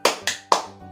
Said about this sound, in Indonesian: kita tepuk semangat terlebih dahulu ya